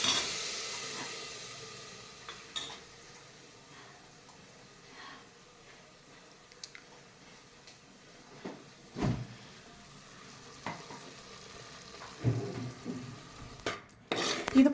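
Liquid with onion, tomato, mint and curry leaves poured into a ghee tempering in a pan and stirred, with soft sizzling, scattered utensil clinks and scrapes building toward the end, no talk.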